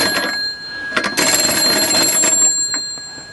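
A small bell fitted inside a homemade SG41 cipher machine prop rings in a few quick close bursts, a bright metallic trill with brief gaps, loud and alone.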